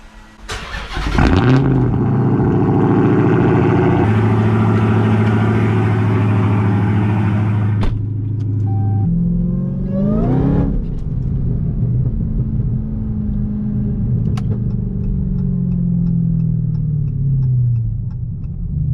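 A car drives up to an auto shop, its engine rumbling loud and steady throughout, with a shift in tone partway through and a brief rev near the middle before settling into a lower, continuous drone as it pulls in.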